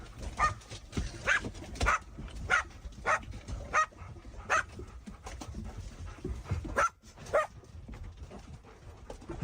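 Several dogs bark repeatedly at fairly close range, a rhythm of sharp yaps and woofs every half second or so, mixed with panting and whimpering and no talk.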